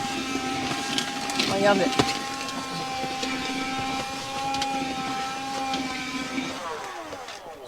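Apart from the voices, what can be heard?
vacuum sucking water from van shower tray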